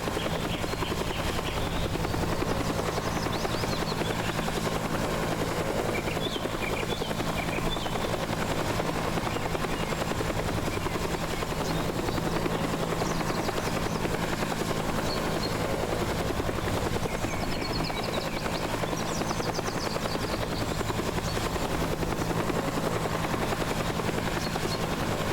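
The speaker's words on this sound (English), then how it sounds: "I think the helicopter wants to meet" A helicopter in the game Teardown drones steadily throughout with a constant rotor hum and engine whine, loud and unbroken over broad background noise.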